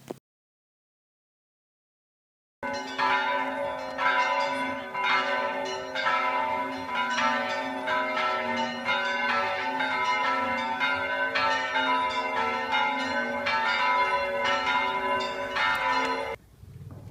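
Church bells ringing in the bell tower of Agapia Monastery in Bucovina, a run of loud, rhythmic strikes with a sustained hum beneath them that keep going for about fourteen seconds after a short silence and then stop abruptly.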